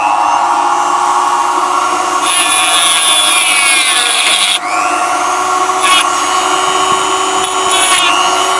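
A diamond ball burr spins at high speed in a rotary tool, grinding a starting point with a loud, whining, continuous tone whose pitch shifts as it bites into the metal. Several sharp surges of bright grinding come and go.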